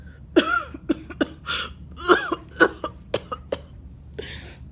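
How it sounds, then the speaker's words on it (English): A voice performing a series of short, sharp coughs with brief throat-clearing sounds, several bursts spaced irregularly, close and fairly loud, with quiet gaps between them. "Morris coughed."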